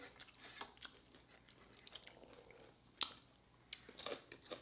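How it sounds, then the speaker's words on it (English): Someone chewing a ribeye steak soft taco in a flour tortilla, close and quiet: soft wet chewing with occasional sharper crunchy bites and lip smacks, no speech. "I'm eating ribeyes. My steak gonna be soft taco."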